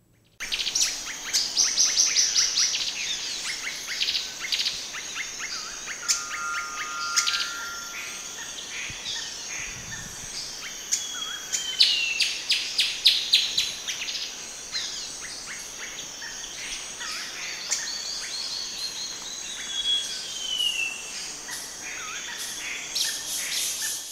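Several bird species sing and call together in a morning chorus recorded around Rémire-Montjoly, French Guiana, with overlapping whistles, trills and chirps running continuously over a faint insect and cricket hum.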